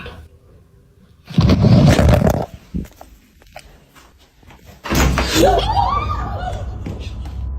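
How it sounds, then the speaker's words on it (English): A door being yanked by its doorknob, a sharp rattling thud and slam bursting in after a quiet stretch, followed by a second loud rattling jolt with a shaky sound trailing off. "someone seems to turn the doorknob and yank the door"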